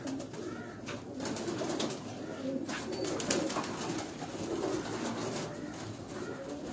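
Kamgar pigeons coo in a steady, continuous murmur of low rolling calls, with faint higher bird chirps scattered over a busy rooftop background.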